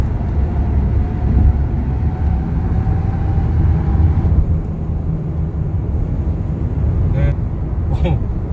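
A Kia Carnival 9-seater minivan accelerates, heard from inside the cabin as a loud, steady low engine and road rumble, with a brief higher whine near the end.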